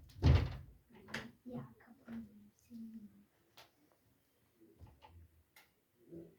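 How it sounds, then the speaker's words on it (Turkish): A door is pushed shut indoors, one heavy thud right at the start, followed by people talking casually. "niye kapıyı kapıyorsun?"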